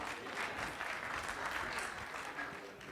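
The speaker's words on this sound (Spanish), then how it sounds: "Bien, un aplauso." An audience at a talk breaks into applause, a faint, distant, continuous patter of many hands for about three seconds.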